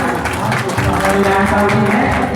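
Loud, dense clapping welcomes the MLA at a Shiv Baba flag-hoisting and honour ceremony. Steady applause fills the whole stretch, with voices and tonal sounds mixed in.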